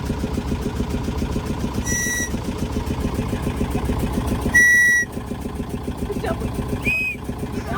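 A loaded slow boat's steady mid-low engine drone runs throughout on the crossing between Kodi and Gangolli, with a few brief high-pitched tones and a short louder burst near the end.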